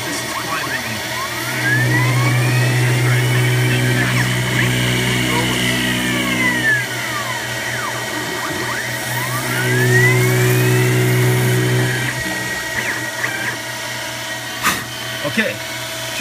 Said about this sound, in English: This is climb milling.